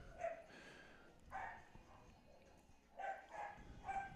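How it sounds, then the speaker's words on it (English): A dog barks in the background in a few short bursts spread through the clip, fairly faint and alone with no talk. "You may hear a dog in the background."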